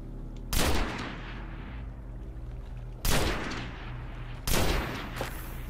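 Gunfire from shooting enemies in the video game Destiny: three loud, separate bursts of shots, roughly evenly spaced, each followed by a decaying tail over a steady low background hum.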